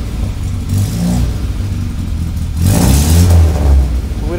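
An Austin-Healey Bugeye Sprite engine, a restoration project car, runs loudly up close, settling into a rough idle and then revving up in a couple of surges.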